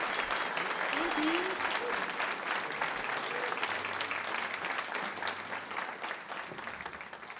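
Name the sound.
audience applause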